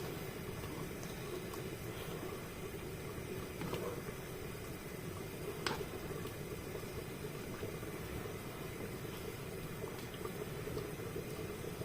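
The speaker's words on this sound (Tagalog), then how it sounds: "Yan kumukulo na" A pot of liquid simmers and bubbles steadily, a soft continuous burble with an occasional faint clink, no one speaking.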